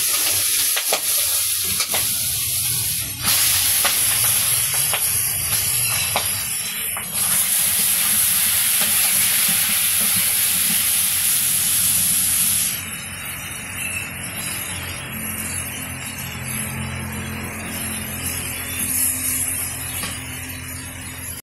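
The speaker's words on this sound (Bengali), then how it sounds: "এই যে মাছগুলো হইতেছে হলুদ মরিচ দিয়ে মাখিয়ে নিচ্ছে এখন তেলে ভাইজা নিতেছে" Shing fish coated in turmeric and chili frying in hot oil, a loud continuous sizzle and hiss with bursts of spitting and stirring, changing texture partway as the oil settles, with no talking.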